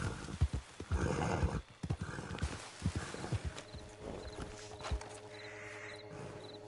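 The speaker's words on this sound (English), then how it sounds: "Not sure where my horse is going." A horse in Red Dead Online clops along in a steady hoof rhythm, then lets out a neigh, with game ambience and tones ringing underneath.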